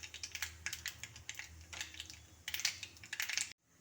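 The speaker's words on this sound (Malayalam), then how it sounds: "കടുക് പൊട്ടിക്കൊണ്ടിരിക്കുകയാണ്." Mustard seeds crackle in hot oil, heard as dense, rapid close popping in bursts that stops abruptly near the end.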